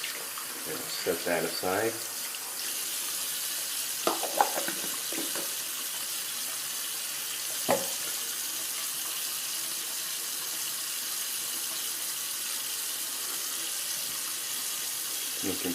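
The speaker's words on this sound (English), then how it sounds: "Rinse off my soap puck." Water runs steadily from a tap while a shaving soap puck is rinsed off, a constant close hiss with a few light knocks and handling sounds near the start and a brief spoken remark.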